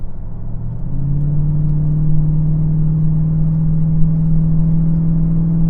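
A Chevrolet Trailblazer SS SUV with a 400 hp engine accelerating hard, its loud interior engine drone climbing steadily in pitch, steady and close, with no talk over it.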